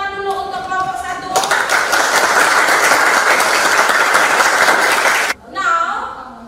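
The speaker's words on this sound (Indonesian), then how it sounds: "berikan tepuk tangan dulu untuk kelompok 1" A classroom of students in an English lesson applauds a student group, a loud burst of clapping lasting about four seconds that cuts off abruptly, with a teacher's voice just before and after.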